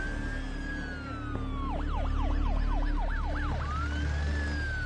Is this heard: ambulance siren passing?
yes